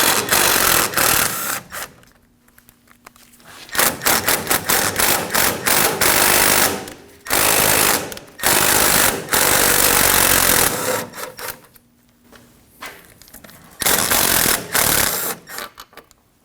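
A power tool runs in repeated loud, buzzing bursts with short pauses as it removes the three 8mm bolts holding the backing plate to the steering knuckle on a 2009-2014 Ford F-150 front end.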